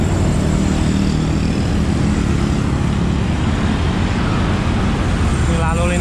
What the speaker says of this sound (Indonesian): Ini lalu lintas